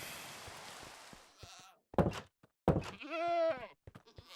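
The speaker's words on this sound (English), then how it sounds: "what I've done is I put my 2 goats in this little 2 wide tunnel" Goats in Minecraft 1.19 bleat in short wavering calls, with hollow blocky thunks and brief gaps of silence between them, close and clear without talk.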